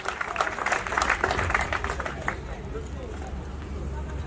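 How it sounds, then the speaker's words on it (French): A crowd at a family gathering gives a short burst of brisk applause, which quickly fades into a murmur of background noise. "On applaudit très fort pour l'homme."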